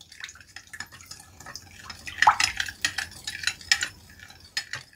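A metal dessert spoon stirs baking soda into water in a bowl, sending out a run of bright clinks and scrapes that build in the middle and come close and fairly loud, with soft liquid swishing between them.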